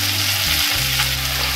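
Curry leaves and small shallots fry in hot coconut oil after mustard seeds have popped, giving a steady, close, continuous sizzle with no voices.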